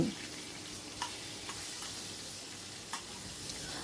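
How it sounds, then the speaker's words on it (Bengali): Katla fish sizzles steadily in hot oil, a constant crackling hiss broken by a few sharp pops. "এপিট ওপিট করে মাছগুলো ভালো করে ভেজে নেব"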